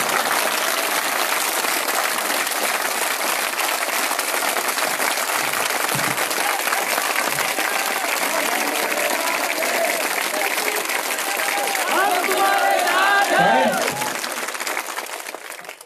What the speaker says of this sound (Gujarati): બે હાથ ઊંચા રાખીને ફરતી ખખડી તાળીઓ પાડે મને ખબર પડે